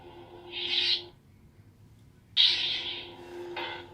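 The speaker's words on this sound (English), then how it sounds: "when you turn it off, oh yeah, it does the sway sounds" RGB Obi-Wan LGT lightsaber makes two airy, whooshing swing sounds over a low steady hum, each about half a second, close and moderately quiet, with a brief pause between swings.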